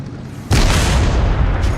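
A tank shell blast destroying a target in a tank combat video game: a single loud, sudden boom that cuts in after a quiet moment and rolls on with a heavy low rumble.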